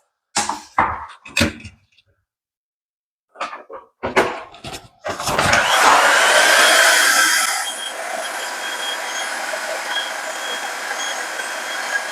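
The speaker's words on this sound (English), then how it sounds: "I'll probably just use that heat gun to soften that up a little bit" A few scattered knocks and clunks come first, then a heat gun blower starts with a loud, rushing roar as it softens the edge of a vinyl plank floor. The roar soon settles into a steady, slightly quieter hiss that runs to the end.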